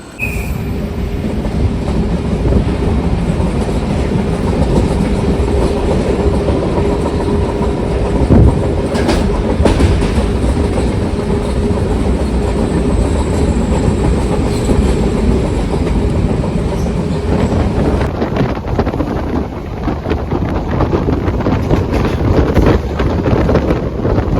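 A Panvel-Chiplun Diwali special MEMU electric multiple-unit train runs at speed, giving a loud, steady rumble with wheel clatter and wind buffeting throughout, and no one speaks.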